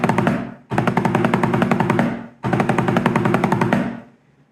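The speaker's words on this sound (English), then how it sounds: "We'll start by playing a 7-stroke roll, then a 15-stroke roll," Rapid snare drum rolls played in bursts: a short 7-stroke roll, then two longer 15-stroke rolls separated by brief pauses, crisp and close.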